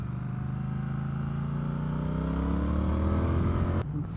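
A Triumph Speed Twin motorcycle being ridden, its engine droning steadily and loud with a rising tone as it gains speed, then cut off abruptly near the end.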